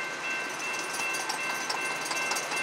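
Norfolk Southern intermodal freight train with Union Pacific locomotives passing eastbound at night in Mableton, Georgia, a steady rolling rumble with faint clicking wheels and a high, thin squeal throughout.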